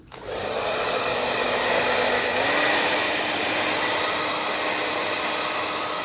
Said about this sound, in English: Let's go get a hairdryer. I got a hairdryer.